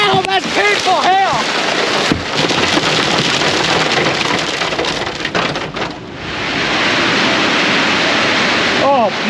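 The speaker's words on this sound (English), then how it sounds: "that's painful hail!" Hail pours down hard and steadily during a soybean harvest, a dense, loud rattling hiss over a running gutter, with brief voices speaking at the start.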